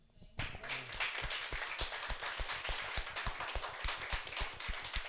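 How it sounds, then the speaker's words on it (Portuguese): A church congregation claps in praise after a hermeneutics class, quick steady hand claps with a faint ringing tone at the very start, moderately distant and without speech. "Vamos aplaudir o Senhor?"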